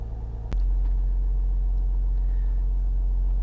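Jeep Grand Cherokee EcoDiesel engine just started after a fuel filter replacement, a brief click and then a loud, steady low diesel rumble that idles evenly close by.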